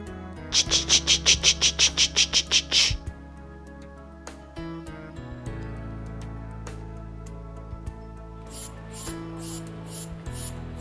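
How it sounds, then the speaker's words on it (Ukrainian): Cicada song in spring: a loud rhythmic burst of rapid buzzing pulses at the start, then a quieter stretch and a second run of sharper pulses near the end, over a steady tonal background. "Цикада співає ч ч ч ч ч ч ч ч"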